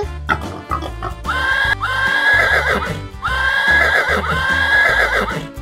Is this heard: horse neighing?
yes